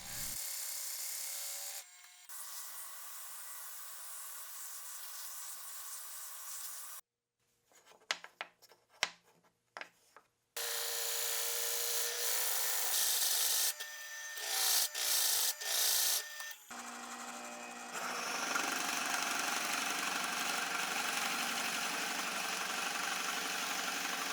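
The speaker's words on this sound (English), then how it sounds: "Next, I started drilling a hole in each face to the depth of the depth stop." Drill boring holes into each face of a scrap wood cube down to a depth stop, end grain included: long, loud steady whirring bursts broken by a quiet gap with scattered knocks and handling noises.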